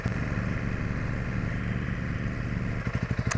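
A Honda CRF300 Rally motorcycle with its stock exhaust idles with an even, throbbing single-cylinder beat, then blips into a quick pulsing burst of revs near the end.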